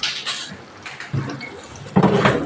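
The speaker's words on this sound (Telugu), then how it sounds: "ఇందులో చింతపండు పులుసు అనేది యాడ్ చేస్తున్నాను" Tamarind juice is poured into a frying Andhra-style fish curry, a short splashy trickle of liquid with a bubbling sizzle underneath, close and moderately loud.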